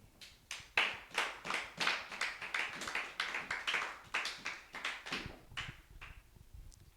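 A church congregation applauds together after a Bible reading, a dense run of hand claps that swells and rolls on for several seconds, fairly close and clear, with no talk over it.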